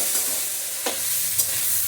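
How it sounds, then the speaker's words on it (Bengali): A tarka crackles and sizzles in a hot pan, a close, continuous frying hiss punctuated by a couple of sharp pops and stirring sounds. "তরকা ভাজা হতে হতে"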